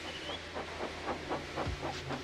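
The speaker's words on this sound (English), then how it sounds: "So they lit his fire, made lots of steam, and Edward puffed away." Rhythmic chuffing puffs from a steam locomotive in a Thomas & Friends animation remake, over a steady hiss, each puff evenly spaced and moderately loud.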